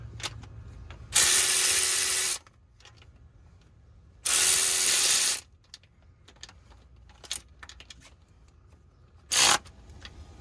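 Bolts being tightened with a ratchet during a Gen V LT camshaft install, heard as three loud bursts of rapid ratchet clicking, the last one short, with faint tool clinks between them.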